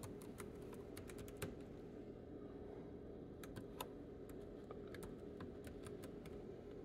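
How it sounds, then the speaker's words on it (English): Quiet, irregular clicking of keys on a keyboard, tapping in quick clusters over a low steady background hum. "Let's see if I can type this."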